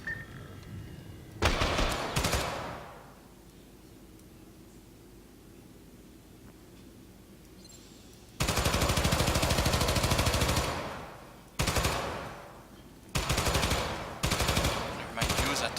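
Gunfire at targets in the video game Syndicate, with sustained bursts of automatic weapon fire that start and stop abruptly, one long stretch and several short ones, loud over a quiet background hum.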